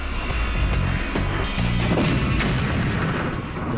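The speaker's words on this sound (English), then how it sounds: "Iron Fist launches its projectile to intercept the incoming grenade." A loud, booming launch from the Iron Fist active protection system firing a projectile to intercept an incoming grenade, with several heavy blasts and rumbling bursts packed close together over a few seconds.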